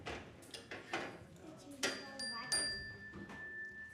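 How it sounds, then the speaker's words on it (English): Hand bells ring loudly at a Sunday service, with several bright metallic strikes and lingering chimes over a clatter of other percussion and voices. "we're gonna ring our bells really loud so we can wake up the sun"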